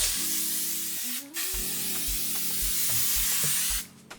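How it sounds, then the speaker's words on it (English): L'Oreal Infallible makeup setting spray hisses in two close bursts from a nearby bottle, a short mist followed by a longer spray, with a few soft clicks and no talk. "So this is the L'Oreal Infallible, and I am going to spray this"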